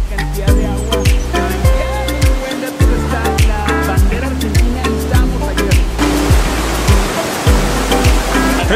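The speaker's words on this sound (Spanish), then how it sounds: "definitivamente obligado venir sí o sí a la parte brasileña del parque de las Cataratas del Iguazú" Massive roar of Iguazu Falls seen from the Brazilian side of the park, a loud, steady broadband rush of heavy water with low rumbling pulses, continuous throughout.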